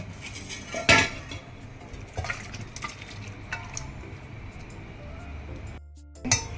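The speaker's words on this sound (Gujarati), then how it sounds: "આને સ્મેશ કરી નાખવાનું. આપણે ભાજી પાવનો જે આવે છે ને એનાથી મેશ કરી નાખજો." A masher works cooked brinjal in a bowl for Kathiyawadi bharta, giving scattered metallic clinks and scraping against the bowl, with one sharp knock early and another at the end.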